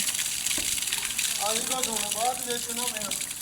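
Water gushing from a motor-driven pump in a steady, loud rushing stream, with people talking over it partway through.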